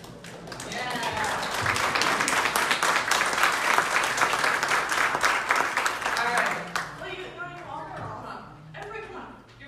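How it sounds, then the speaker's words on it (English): A gathered audience at a service claps warmly in a sustained burst lasting several seconds, then tapers into scattered claps as voices speak. "Can we get a clap?"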